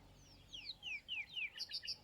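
Several birds chirp and tweet in Kruger National Park, a run of quick descending whistled calls giving way to clustered repeated notes, faint against a quiet open-air background.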